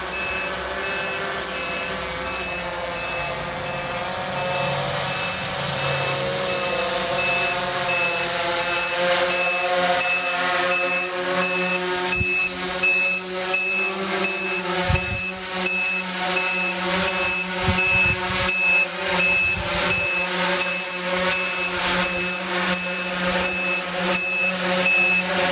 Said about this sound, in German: Nachbarn werden mich lieben für das Gepiepe.